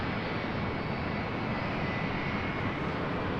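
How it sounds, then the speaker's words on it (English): A United Airlines jet airliner at LAX, its engines a steady broad roar that holds at an even level throughout, distant and with no voices. "This is United Airlines 1431 about to take off to Honolulu"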